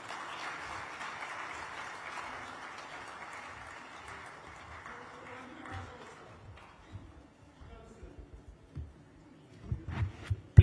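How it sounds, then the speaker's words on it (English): Applause from an audience at a mining and minerals convention in Ghana fills the hall, then thins to scattered claps and movement while a voice is heard. "is there a way to increase the applause"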